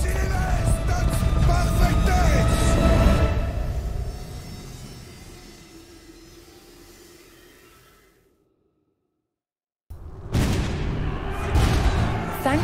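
Cannon fire in an Age of Empires 4 cutscene about the Hundred Years War, heavy booms and rumbling battle noise that swell and then fade into silence before another loud burst of fire.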